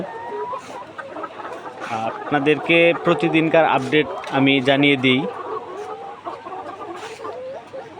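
Laying hens on a layer farm cluck and squawk close by, repeatedly and in overlapping bursts, while someone talks over them.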